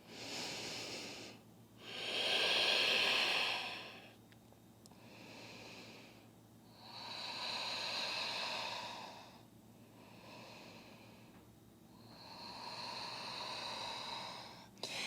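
Slow, deep breaths in a yoga downward facing dog pose, each inhale and exhale a broad airy rush lasting a couple of seconds, repeating in a steady rhythm close to the microphone with no talking.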